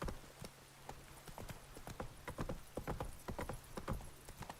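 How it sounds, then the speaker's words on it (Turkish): Horse hooves clip-clop in a video game. The footfalls are quick and irregular, fairly close, and continue throughout over a faint background. "At nereden geliyor ya?"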